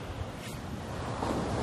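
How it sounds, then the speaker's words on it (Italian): Rough, heavily churned sea washing steadily at a surfcasting beach, a continuous broadband roar and hiss of waves mixed with wind buffeting the microphone, with no voices. "c'è il mare molto mosso oggi"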